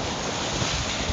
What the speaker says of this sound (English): I don't want to get too close to these waves